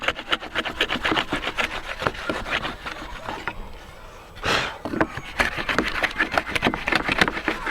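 A Stanley router plane cuts a narrow dado in workbench wood, close rhythmic scraping strokes in quick succession, pausing briefly midway before resuming.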